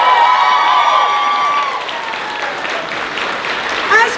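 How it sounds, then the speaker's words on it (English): An audience at a cosplay show at Colorado Anime Fest applauds and cheers, a loud sustained burst of clapping with a few shouts and whistles, and a voice briefly heard under it. "Give them all a big round of applause, guys."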